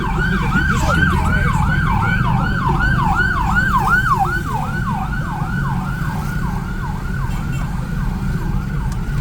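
A wailing police siren sweeps up and down in steady, rapid cycles, loud and close, over a constant low rumble of traffic and engine noise on the road from Dumaguete to Sibulan, Philippines.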